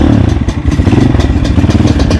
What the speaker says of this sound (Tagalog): Yan ang kanyang motor, oh, pang malakasan, oh, pang bundukan talaga.